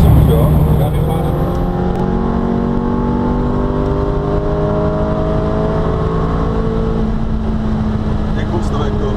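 A Ferrari engine revs high as the driver downshifts with the left paddle, then settles into a loud, steady drone with falling and rising tones, heard from inside the car.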